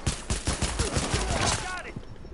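Rapid bursts of sidearm gunfire in the video game Tom Clancy's The Division, a fast run of sharp close shots in a steady rhythm that trails off, with a voice briefly talking over it.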